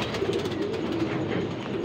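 Pigeons at a pigeon sale, one a prince breed, coo steadily in a low throaty hum that carries through the whole short stretch, fairly close and without pause.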